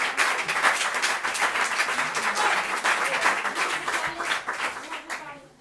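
An audience at an after-work gathering applauding, a dense steady patter of many hands clapping for several seconds that fades out at the end, with a little talk mixed in.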